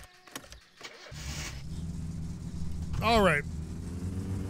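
In the video game My Summer Car, a car engine with a misfire cranks, catches, then runs rough and uneven at low revs, losing power, while someone speaks briefly.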